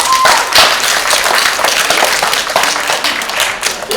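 An audience applauds a dog named Blue after he performs a sit trick at an animal show, with steady, dense clapping from a crowd that continues throughout and tapers slightly near the end.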